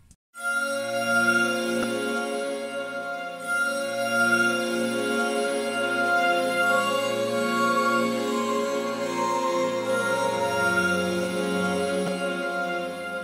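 Bowed lap steel patch from a software instrument plugin, a smooth sustained drone of layered tones that swells in softly and holds steady, shifting chords gently over several seconds with no talking.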